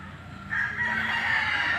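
A rooster crows once among a backyard flock of chickens, a loud drawn-out call starting about half a second in and holding to the end over soft clucking.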